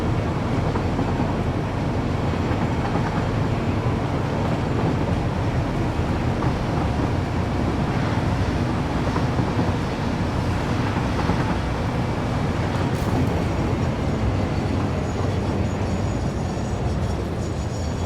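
Train running in the video game Satisfactory, a loud, steady rumbling roar that holds level throughout with no pauses and no voices.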